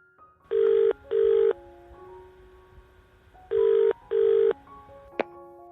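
Landline telephone tones as a call is placed to a furniture company: two pairs of long electronic ring bursts, each pair separated by a pause, with a faint low tone between them and a brief click near the end, no voices.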